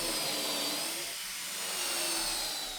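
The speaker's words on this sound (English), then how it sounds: "if you stick it in a hand drill and you hold on real tight and you start the drill before you have it touching the wood" A hand drill fitted with a plug-cutting bit whines steadily as it bores into wood, a continuous high-pitched motor drone with a slight dip in pitch midway, close and loud.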